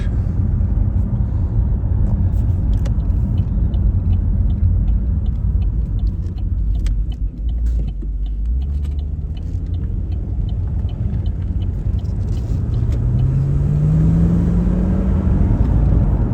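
A Chevrolet Camaro SS RS convertible engine idles with a heavy, close rumble, then climbs into a rising rev near the end, loud and continuous without speech.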